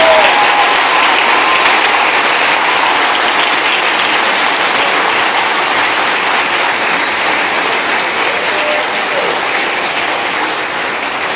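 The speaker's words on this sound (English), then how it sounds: "some of the students were over there clapping the hardest" Sustained applause from a large audience, students among them, at a technology summit in Grand Bahama, a long, loud, dense wash of clapping that tapers off slightly toward the end.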